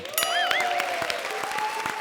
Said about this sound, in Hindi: हमारे शो पर जोरदार तालियां।